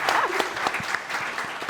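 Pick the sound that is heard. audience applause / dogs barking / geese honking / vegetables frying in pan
audience applause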